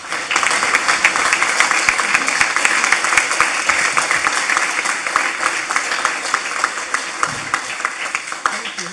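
A conference audience at an environmental policy event applauds to welcome a speaker, with dense, steady clapping that continues at an even level for about nine seconds.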